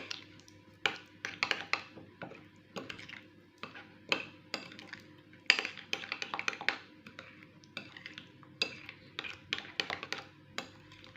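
A spoon stirs a sauce of crushed garlic and a pinch of salt in a bowl, producing repeated close clinks, taps and soft wet squishes in an irregular rhythm.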